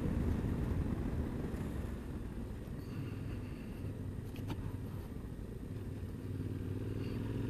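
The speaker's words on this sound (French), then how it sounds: "Plaisir aussi de rouler avec des motos comme celle-ci." A Yamaha Ténéré 700 rides off-road with a steady engine drone that stays loud throughout, mixed with rushing wind and faint clatter from the trail.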